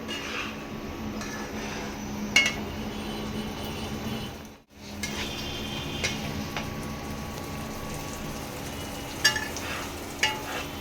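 Mustard and poppy seed paste fries in oil in a pan with a steady soft sizzle, scraped by a spoon with occasional clinks and a brief pause in the middle.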